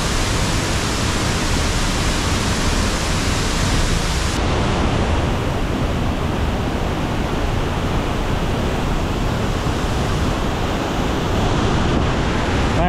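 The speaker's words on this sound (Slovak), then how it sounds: "máme tu lagúnu so šialeným vodopádom" A tall, powerful waterfall pours into a lagoon in the Philippines, a dense, unbroken roar of rushing water that stays loud and steady throughout.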